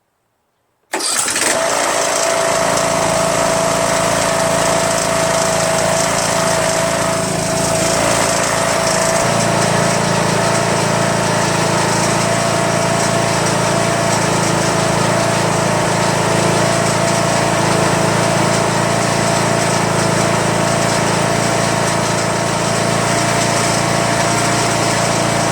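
A Troy-Bilt lawn tractor's Briggs 21HP Intek engine cranks over and catches, then idles steadily and loudly close by for the rest of the stretch, with a slight shift in its drone partway through and no talking.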